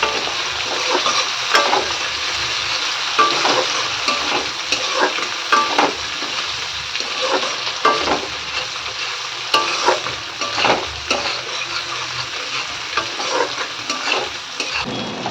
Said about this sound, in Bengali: আলু ভাজা ভাজা হয়ে গেছে